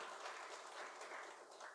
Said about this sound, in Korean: 박수 한번 부탁드릴까요?